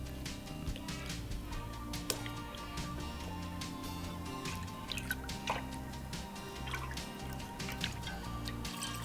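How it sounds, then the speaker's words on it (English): Settled sweet potato starch is mixed with clean water, making steady wet dripping and squishing sounds throughout, close up. No voices. "Add clean water, mix well."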